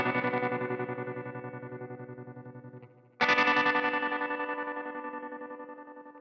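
Capex tremolo on electric guitar pulsing rhythmically through two sustained, distorted chords, each decaying slowly, the second struck loudly after a short gap.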